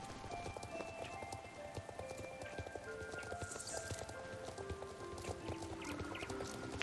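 Hooves of a horse trot in the Star Stable video game, a quiet, rapid and even clip-clop that continues throughout over a soft outdoor background.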